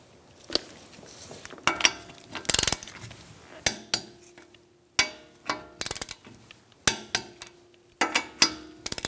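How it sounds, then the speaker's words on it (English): Torque wrench tightening the wheel lug nuts on a 2002-2006 Honda CR-V to 80 foot-pounds in a star pattern, giving a series of sharp metallic clicks and clanks spaced irregularly across the clip, close by, with no talking. "We're going to torque our wheels to 80 foot-pounds. You're going to do it in a star-like pattern."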